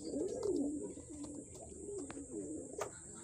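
Pigeons arriving home at their loft give soft, throaty cooing, with several close coos rolling one after another over a faint background hiss.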